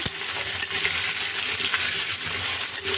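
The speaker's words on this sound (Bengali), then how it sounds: "এবার আলুগুলো ভেজে নেব আলুগুলো ভেজে নিচ্ছি" Diced potatoes frying in hot oil, a dense steady sizzle with bright crackle and occasional stirring clinks from a pan, close and continuous.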